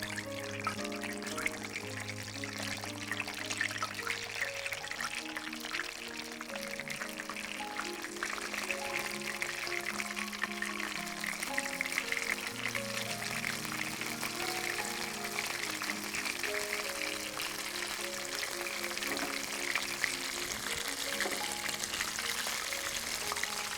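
Kerala-style prawns fry in hot oil at medium heat, a steady, dense sizzling and crackling that goes on throughout with soft background music underneath.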